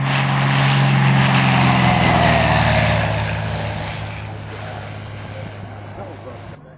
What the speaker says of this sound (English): Low flyby, heading for Dallas or Fort Worth.